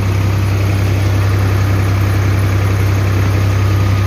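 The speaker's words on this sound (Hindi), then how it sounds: "ट्रैक्टर है स्वराज 735 FP, देखते हैं कितने RPM पे चल रहा है।" A Swaraj 735 FP tractor's diesel engine idles at a constant low rumble around 1300 RPM, loud and close, with an even hum and no other sounds.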